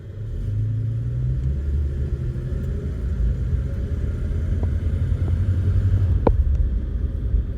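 A 1970 Dodge Dart Custom engine with a running fault rumbles at low idle as the accelerator is pressed, rising slightly in revs, with a few faint clicks and a sharp tick near the end, heard close by.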